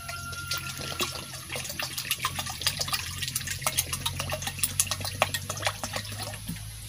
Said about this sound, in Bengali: বর্ষার জল দিচ্ছি